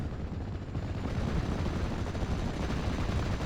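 Gunfire in the WWII strategy game Steel Division 44, a dense rolling crackle of shots blending into a continuous rumble, steady and moderately loud with no talking.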